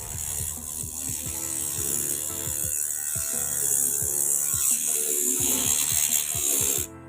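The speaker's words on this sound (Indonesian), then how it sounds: "kalian bisa mengamplasnya memakai dinamo seperti ini teman" A small used dynamo motor whirs steadily while sanding wood, with a rough scraping rasp and irregular rattling clicks throughout, close by.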